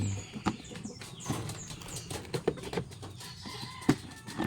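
Backyard chickens clucking and squawking as they are fed, with scattered close calls, light scratching and some wing movement.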